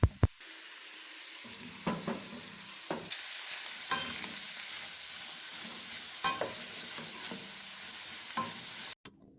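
Onions frying in a pot with rosemary for vegan pumpkin and ginger soup, a steady broadband sizzle throughout with occasional sharp clicks and scrapes of a utensil stirring, close and fairly loud, no talking.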